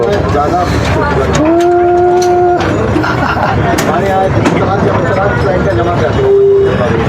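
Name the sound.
mini train ride moving in Cubbon Park, Bangalore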